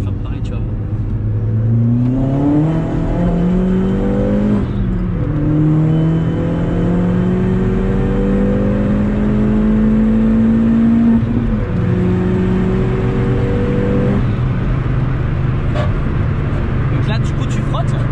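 A car fitted with semi-slick tyres accelerates hard, engine note climbing through rising revs in stepped gear pulls, heard from inside the cabin while people talk throughout.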